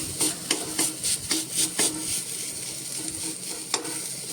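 Besan flour roasting in a pan for a Maharashtrian mokal pith, with repeated rhythmic scraping strokes of a spatula over a continuous sizzle; no voices.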